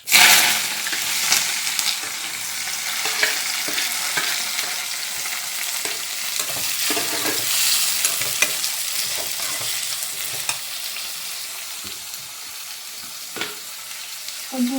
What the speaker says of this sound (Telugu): మరి చిట్పట అన్నాక ఇంక ఉల్లిగడ్డ టమాటా రెండు వేసేస్తాను.